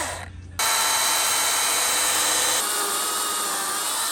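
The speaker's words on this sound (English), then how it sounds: "The Milwaukee electric chainsaw to make our slots in the bottom of the post." A Milwaukee electric chainsaw cuts slots into the bottom of a wooden post, a loud, steady, close motor whine with gritty cutting noise that starts after a brief pause and runs continuously to the end.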